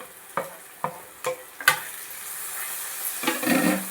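Onions and tomatoes sautéing in a pan for a village-style drumstick-leaf curry: a few sharp spoon scrapes and taps over a soft, steady sizzle that swells louder near the end, with no talking.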